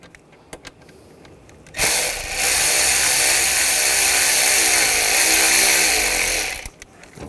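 A power tool whirs steadily for several seconds to loosen a worm clamp with a 7mm socket on a 2009-2017 Volkswagen Tiguan 2.0L throttle body, starting and stopping abruptly amid quiet clicks.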